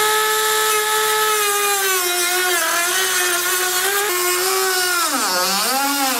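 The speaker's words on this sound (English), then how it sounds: "I'm gonna use a Dremel tool to cut it." A Dremel rotary tool cutting thin plastic trim on a 2015 Toyota Highlander during a trailer hitch install. It gives a loud, steady high-pitched whine that sags and recovers in pitch as the bit bites into the plastic.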